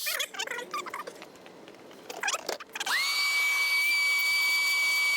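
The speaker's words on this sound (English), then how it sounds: "I'm just vacuuming it all up because I like to try to make it as clean as possible" A vacuum cleaner sucking up brake dust during a rotor and brake pad job on a 2005 Chrysler PT Cruiser. Clattering handling noises come first, then the motor whines up and holds a steady, loud drone.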